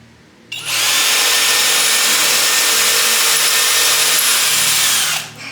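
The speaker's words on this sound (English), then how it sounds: "Drilling a hole, I put this little tape on here." A power drill whirs loudly and steadily for about five seconds, close up, drilling a hole in taped butcher block, starting and stopping abruptly.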